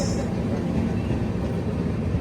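Train rolling through Kottavalasa junction, a Nagavali Express on the line from Visakhapatnam; a steady, close low rumble and clatter of wheels runs unbroken throughout, with a faint voice briefly present.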